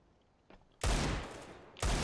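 Two loud bursts of rapid automatic gunfire in Counter-Strike: Global Offensive, the first lasting about a second and the second starting abruptly just after, with no talk over them.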